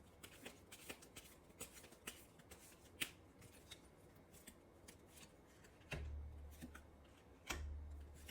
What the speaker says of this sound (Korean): 그럼 여러분의 관계에 대해서 조언 카드 한번 뽑아보도록 할게요